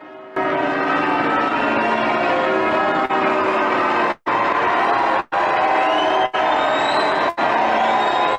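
Church bells ring over a large, dense crowd, a loud and continuous wash of clanging and cheering noise with a few brief dropouts, and no clear speech.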